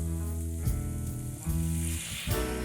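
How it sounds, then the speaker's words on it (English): Veg stock hitting a hot pan to deglaze it, a loud close sizzle that surges in bursts as more liquid goes in, with no talking. "So we're just going to deglaze the pan with some veg stock"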